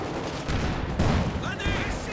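Machine gun fire and a ZiS artillery barrage in Company of Heroes 2: a steady wash of rattling shots and low thuds under light background chatter, with a few tonal game cues near the end.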